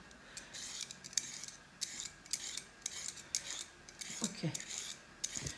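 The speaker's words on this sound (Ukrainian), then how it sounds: "Головне почистити моркву." A carrot being peeled with a knife: a run of short, rhythmic scraping strokes, close and fairly quiet, with soft handling knocks near the end.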